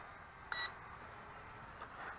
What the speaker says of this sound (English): She beeped, but she didn't flip.